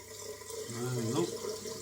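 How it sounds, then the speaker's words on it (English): Tap water runs steadily over a razor into a sink, a close, continuous splashing rush lasting a couple of seconds, swelling slightly in the middle. "Give the razor a good old wash through."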